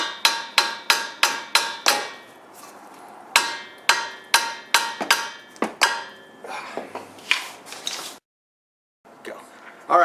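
Metal hammer blows strike a 17mm box wrench to loosen tight brake mounting bolts on a 2004 Honda CR-V, a rapid series of sharp ringing clanks in bursts, loud and close, followed by a pause and a few more hits.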